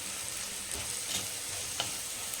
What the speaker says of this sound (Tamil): சேர்த்துட்டு நல்லா வந்து வதக்கிறேன்